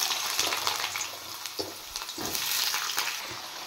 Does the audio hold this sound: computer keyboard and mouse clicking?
no